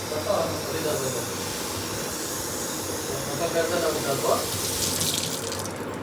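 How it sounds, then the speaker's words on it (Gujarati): Running water pours steadily from a tap into a bottle, a continuous splashing hiss with faint voices in the background. "હું પાણી એમ ભરી આવું થોડું પાણી ભરાયું છે"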